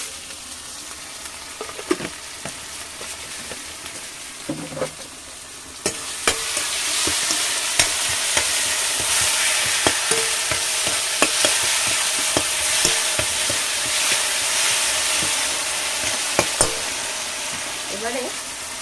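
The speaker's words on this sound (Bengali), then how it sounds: "এবার সমস্ত মশলাগুলো একসাথে ভালোভাবে কষিয়ে নেব দিয়ে দেবো সামান্য চিনি" Spices with chopped tomato and a pinch of sugar sautéing in a pan, a steady sizzle that grows louder partway through, broken by repeated scraping stirs of a utensil against the pan.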